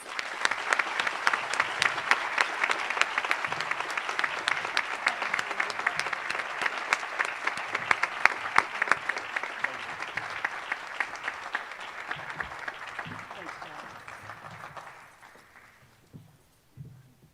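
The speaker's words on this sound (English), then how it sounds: "Please, let's give them a round of applause." A school audience applauds at an eighth grade awards ceremony, a long sustained round of steady clapping that holds at full strength before tapering off into a few scattered claps at the end.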